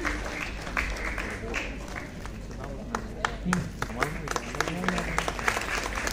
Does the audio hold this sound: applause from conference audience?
yes